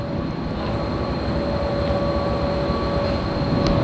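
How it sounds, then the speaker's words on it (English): A train idles at a railway station in Pakistan, its steady engine rumble and hum running loud and continuous, with a faint tone layered above the broadband noise. "So as you can see, our train has arrived."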